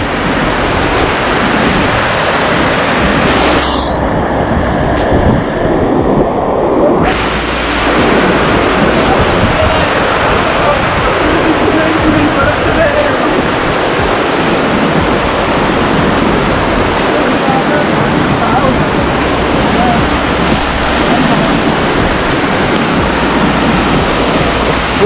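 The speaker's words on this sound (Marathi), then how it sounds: "पाण्याचा फोर्स बघा." Forceful monsoon stream in spate on the Tahuli Peak trek, a loud, steady roar of rushing water filling the whole clip without a break, close by and continuous, with no voices rising above it.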